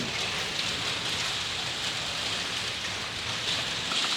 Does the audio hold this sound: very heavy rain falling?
yes